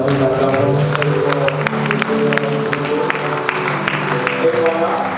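A church congregation applauding steadily, dense clapping throughout mixed with crowd voices and a sustained tonal hum, likely music or singing, filling the room at close range.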